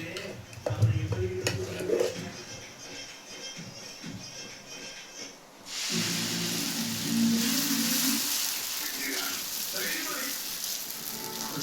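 Dosa batter meets a hot, oiled stone griddle: after a quieter stretch of clatter, a steady broadband sizzle and frying hiss rises suddenly and holds loud to the end, with faint kitchen clinks and some talk earlier on.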